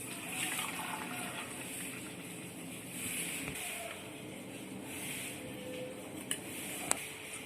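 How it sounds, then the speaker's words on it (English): Milk is poured into a water bottle to start an Oreo milkshake, giving a steady, soft gush of liquid with a few light clinks near the end. "First, pour the milk into the water bottle."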